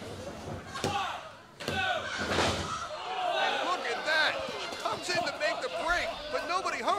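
During a women's tag-team wrestling match, a wrestler is thrown and slammed onto the ring mat. The impact lands as a few loud thuds under crowd chatter and commentary.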